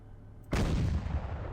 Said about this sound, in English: All right, now let's get to the Demolisher cannon.